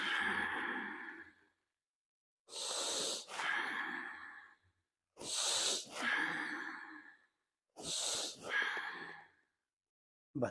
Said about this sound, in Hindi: होठ बंद करके नाक से सांस लेना और छोड़ना है।